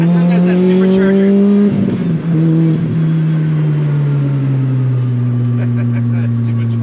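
Supercharged Lotus Exige 240 S revving hard under acceleration, a loud near engine note climbing in pitch, a brief gear-change dip, then a steady high drone as it pulls on.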